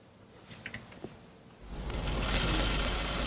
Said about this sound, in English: we're going to top stitch it at 1/4 inch from distance from the edge